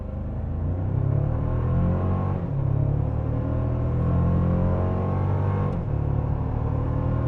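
A 2024 Toyota Tacoma truck with a four-cylinder engine accelerates hard, its steady engine drone rising in pitch through the gears, with a brief dip around a shift midway; loud, close and continuous with no talking.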